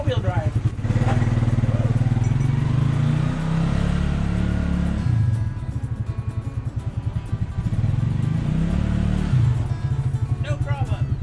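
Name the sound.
Suzuki King Quad ATV driving in snow in four-wheel drive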